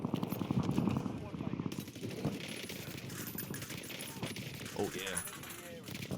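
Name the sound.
gunfire in the video game Warzone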